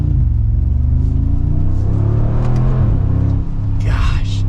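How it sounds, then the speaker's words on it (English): A Mercedes-Benz G63 AMG with side exit exhaust accelerates hard, a deep, loud engine rumble rising in pitch through two gear pulls, close and dominant, with a brief hiss near the end. "And with the side exit exhaust, you can tell there is so much meat and aggression to how this thing works."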